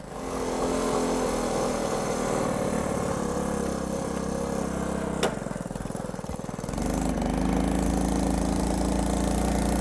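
Honda C90 Cub motorcycle on a test ride, its small single-cylinder engine droning steadily close by with a rough, buzzing texture that shifts in pitch midway, with no talk.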